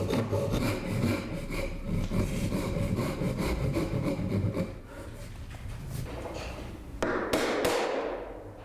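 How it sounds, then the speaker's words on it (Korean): A hand saw cuts the female part of a traditional Korean wooden joint with steady rhythmic back-and-forth strokes, then a few sharper taps and scrapes, close and without voices. "암장부에 톱질을 하는 과정입니다."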